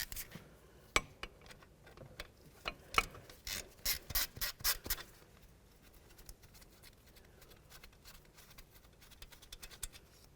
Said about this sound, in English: Now what we want to do is just remove this 10mm headed bolt right there